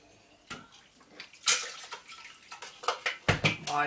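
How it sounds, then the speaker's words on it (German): Homemade apple liqueur made in a Thermomix being poured into bottles: intermittent splashy pouring bursts with faint glassy clinks, close and fairly quiet, with no talking. "Ich fülle es jetzt schnell in Flaschen ab."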